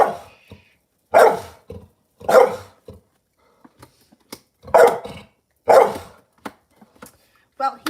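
A dog barks repeatedly at someone arriving, several loud separate barks in short bursts, close by, with gaps of quiet and faint background noises between them.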